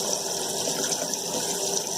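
Water runs steadily from a Spardar water filter tap with a British trade range tap, a constant hissing gush, fairly soft and unbroken, with no voices.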